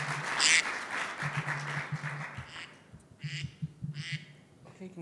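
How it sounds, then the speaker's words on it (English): Conference audience at an IETF session in a large hall, applauding with a broad wash of clapping while scattered people quack like ducks, short nasal honks rising over the noise before fading. "Okay, you can stop quacking now."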